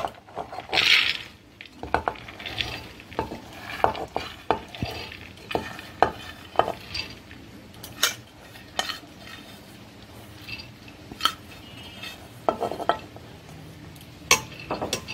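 Soaked chana dal (split chickpeas) poured and stirred into a metal pressure cooker, a burst of pouring rattle followed by scattered clinks and scraping knocks of a utensil against the pot, close and fairly quiet.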